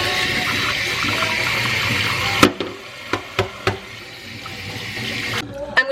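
Hot water runs hard from a kitchen tap for a couple of seconds, then stops. A few sharp knocks and clicks follow as a dishwasher filter is handled in the sink, then the tap runs again briefly.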